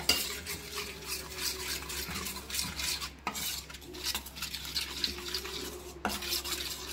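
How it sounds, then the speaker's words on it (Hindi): A spoon stirs powdered sugar into a mixture in a bowl for an Oreo cake, giving continuous scraping and swishing close by, with short clinks against the container, no voices. "अब मैं इसे अच्छे से मिक्स करूंगी।"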